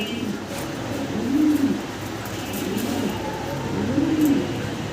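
A pair of German Beauty Homer pigeons, male and female, cooing close by in three rhythmic rolling coos about a second apart over quiet room noise, with no speech.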